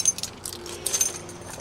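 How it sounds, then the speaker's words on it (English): A bunch of keys jangles and clinks nearby in short metallic bursts for over a second as they are fished out, with no one speaking. "Let me find the keys first"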